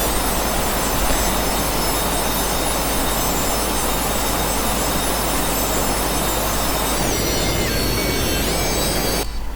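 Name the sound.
Airbus airplane taking off in a Unity mobile game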